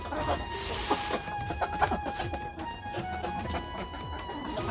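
Chickens cluck and chatter close by as they are fed, a busy cluster of short calls with a faint crow and light scratching noises.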